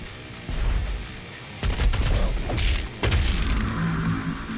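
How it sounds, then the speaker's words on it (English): Energy weapon firing in the shooter game Doom Eternal: three loud bursts of rapid, crackling discharges with booming low thuds, each starting abruptly and ringing on under a dull ambient bed, with no talk. "Energy weapon."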